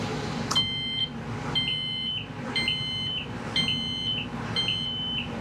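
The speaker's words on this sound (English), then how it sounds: "when I turn this key on, I've got a nice solid beep" Electronic beeps from a boat's ignition console alarm as the key is turned on, on General George Patton's 80-foot schooner: a repeating pattern of bright, steady tones about once a second over a low background rumble, no talk.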